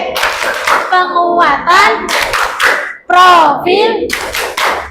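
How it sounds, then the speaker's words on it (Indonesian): A school class claps together in a rhythmic P5 chant, sharp group hand claps in a patterned beat while children and a teacher speak and chant loudly between the claps. "kita akan melakukan tepuk P5 ya bersama-sama"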